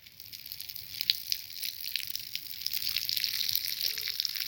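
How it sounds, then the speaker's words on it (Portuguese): Urine splashes onto a small fire in a sugarcane field, a steady faint trickling hiss that grows slightly stronger, with no speech. "eu tenho que mijar também para apagar um pouco o fogo"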